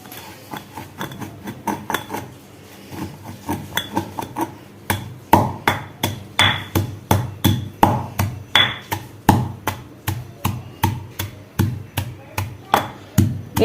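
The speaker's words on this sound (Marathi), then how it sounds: "एकदम बारीक कुटून घ्यायचं आहे पूर्ण मिश्रण।" A new mortar and pestle pounding a mixture into fine paste: steady rhythmic thuds, loud and close, repeating about twice a second with a brief pause near the start.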